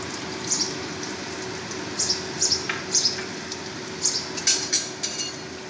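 Chopped garlic and hing frying in oil in a pan: a soft, continuous sizzle carries scattered sharp crackles and pops, steady and close, with no talking.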